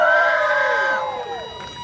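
A lively crowd of party people on a tour bus cheering and shouting, loud and close, with high whoops sustained for about a second before fading into softer crowd noise.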